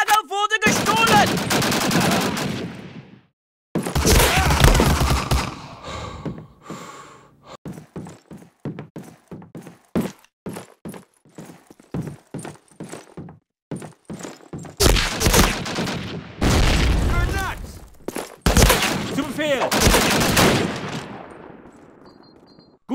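Gunfire in the PC game Call of Duty: United Offensive during capture-the-flag on a large city street map, with loud bursts of automatic fire and rapid single shots in repeated clusters, near and sharp with brief pauses between volleys.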